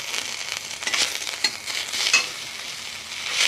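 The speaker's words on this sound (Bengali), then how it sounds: "তেলটা দিলাম এই কারণে, শুধু আদাটা একটু ভাজা ভাজা করার জন্য" Ginger fries in a small amount of oil in a kadai (wok) for a chalta pickle, with soft sizzling and a few spoon stirs and scrapes in short bursts.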